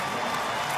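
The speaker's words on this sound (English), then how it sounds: "We've got a nice round of applause for their Green Bay team making it back to the NCAA tournament" Crowd applauding and murmuring in an arena during a 2016 NCAA Tournament basketball game between Green Bay and Texas A&M, a steady wash of clapping and crowd noise with no clear peaks.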